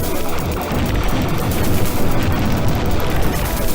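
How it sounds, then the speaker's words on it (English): Enemy ships and turrets firing in the retro shoot-'em-up Tyrian, heard as a dense, continuous barrage of blasts and explosions. Loud and unbroken throughout, with no voices. "the enemy ships are firing at us as well, but not at such a huge amount"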